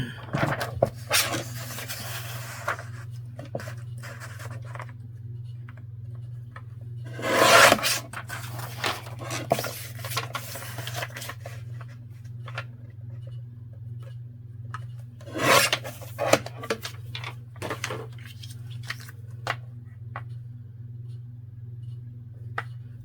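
Material for a sewing craft project is cut in short rasping strokes that come in irregular bursts, with a couple of louder scraping passes over a steady low hum and quiet pauses between.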